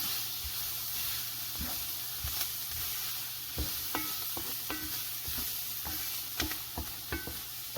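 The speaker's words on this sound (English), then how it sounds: "Now we're gonna add the garlic." Garlic fries in a pan ahead of fried cabbage, giving a steady soft sizzle with scattered clicks and scrapes of stirring, moderately quiet and close, with no talking.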